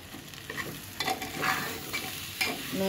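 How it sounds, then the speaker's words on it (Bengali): Red lentils fry in a pan for a pulao-khichuri dish, a steady sizzle broken by repeated scraping stirs and clacks of a utensil, close and moderately loud with no talking. "আর মসুর ডালগুলো ভালো করে ভেজে নেব"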